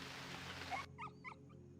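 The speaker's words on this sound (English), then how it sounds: "we also hear something pretty particular from the north, a nice yelp." A wild animal gives a few short yelps from the north in the survival video game Unreal World, coming as distinct, fairly faint calls after a burst of broadband noise.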